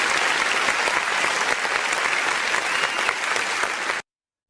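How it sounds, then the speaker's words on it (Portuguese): Studio-style audience clapping welcomes a guest on a math education program: a thick, even burst of applause for about four seconds that cuts off abruptly into silence. "Palmas para ele!"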